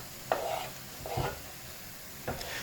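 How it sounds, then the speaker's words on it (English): A spoon stirs peppers, onions, Scotch bonnets and chilli in a frying pan for a veggie biryani. It gives three close scraping strokes over a continuous soft sizzle. "add in your Scotch bonnets, and then also add in your chilli. Give that all a really good mix up."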